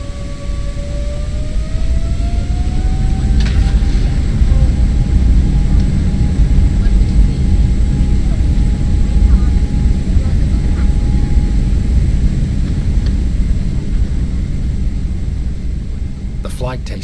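Airplane taking off in the video game At The Voices End, a loud, steady engine roar and rumble with a rising tone building over the whole stretch.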